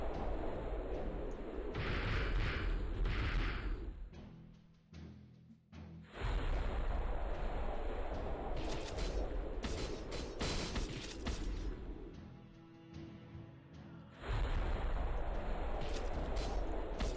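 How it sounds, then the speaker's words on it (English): Fire volcanoes erupting in the Epic War Saga game, dense booming rumbles and crackling blasts in long loud surges, broken by brief quieter gaps with mechanical clicks. "Some fire volcanoes again."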